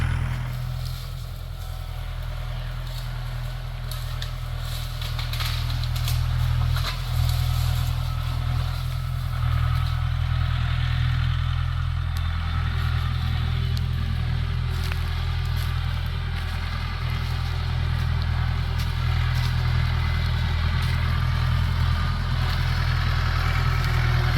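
A Mahindra tractor engine idles in a steady low rumble, close and constant for over twenty seconds with no change in pitch.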